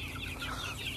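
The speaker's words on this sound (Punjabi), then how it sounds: "ਜੰਗਲਾ ਬਣਾ ਕੇ ਚੂਚੇ ਲੈ ਆਉਂਦੇ ਨੇ, ਨਾ ਮੁਰਗੀਆਂ ਰੱਖ ਲਈਆਂ ਨੇ" Chickens clucking inside a fenced backyard pen kept for raising chicks and hens, a steady busy murmur of fowl calls at moderate distance with no talk.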